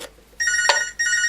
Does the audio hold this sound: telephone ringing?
yes